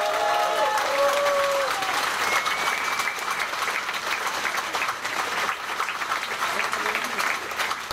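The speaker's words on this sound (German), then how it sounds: "Applaus" Crowd at an outdoor political rally against the Quds march applauds loudly and continuously, with some cheers and voices mixed into the clapping.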